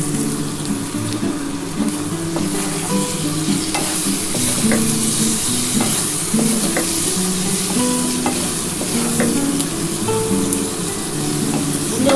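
Tomatoes and green chillies sizzle and crackle in a hot pan with frying potato and eggplant while a spoon stirs and scrapes through them, a steady frying hiss throughout.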